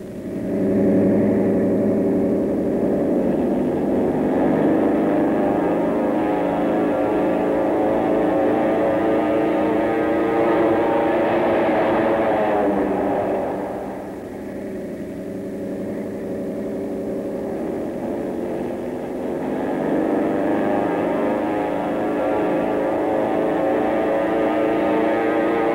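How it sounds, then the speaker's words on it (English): World War II B-29 Superfortress bomber propeller engines drone steadily in flight, a loud, continuous low roar that dips briefly midway and then swells again, with no voices over it. "In no time at all, the planes were over the first of their targets and peeling off for the dive."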